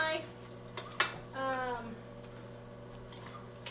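A hamburger casserole stirred in a pot, a sharp metal clank of spoon on pot followed by quieter clinks, with a brief tonal, voice-like sound in between over a low background hum.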